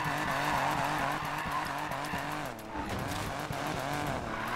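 Buick GNX held in a long slide in the Need for Speed Payback video game, with a steady roaring engine and continuous tire squeal, loud and unbroken, briefly dipping midway.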